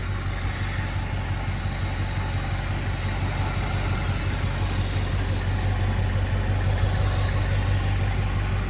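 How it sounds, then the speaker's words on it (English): A 1959 Ford Galaxie Sunliner engine idles smoothly and steadily up close, a constant low rumble with no talking. "Very smooth running engine."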